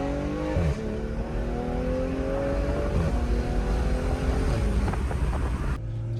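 A tuned BMW M340i engine revs up and down repeatedly, loud, throaty and close by, its pitch rising and falling before cutting off abruptly at the end.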